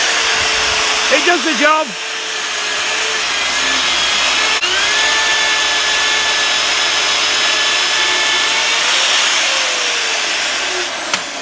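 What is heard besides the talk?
Evolution drill drilling a 26 mm hole in steel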